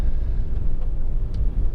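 A Honda Accord EX 2.2 DTEC automatic tourer on upgraded alloys drives along the road, a steady low engine and tyre rumble heard from inside the cabin, with faint brief ticks over it.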